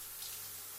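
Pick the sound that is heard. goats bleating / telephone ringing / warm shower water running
warm shower water running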